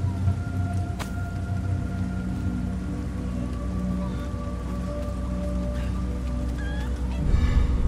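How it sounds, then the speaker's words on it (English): Chickens in the video game Resident Evil 4 cluck and gobble faintly over a steady rain-like background hiss, with a brief sharp click partway through. "Oh, chickens."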